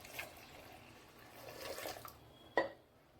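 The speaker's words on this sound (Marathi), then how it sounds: "4 वाट्या पाणी टाकायचं." Water is poured from a bowl into pigeon pea dal with tomato and vegetables for sambar, a soft close splashing pour rising and fading, ending in a sharp clink of a vessel.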